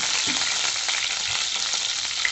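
Garlic and a sprig of curry leaves fry in oil for fenugreek kuzhambu, making a loud, continuous close-up sizzle with faint stirring movements and no talking.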